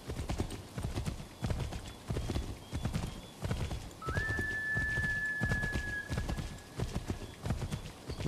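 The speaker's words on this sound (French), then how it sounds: "il y a mon cheval, il est venu" Horse arriving at a trot in the video game Assassin's Creed 3, loud steady clip-clop of hooves with a whinny partway through, close and continuous.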